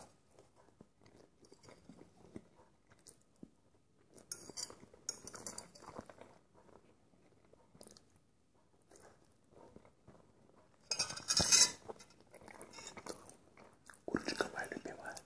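Quiet, close chewing and crunching of fried chicken comes in bursts, with occasional clinks of cutlery and a louder crisp bite near the end.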